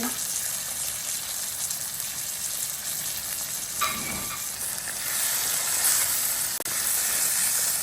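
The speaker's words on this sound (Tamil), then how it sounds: "இதை நல்லா பிரட்டி விடுவோம்" Crab curry with curry powder fries loudly in a pan, a dense continuous sizzle and hiss with occasional stirring clicks, close and steady throughout.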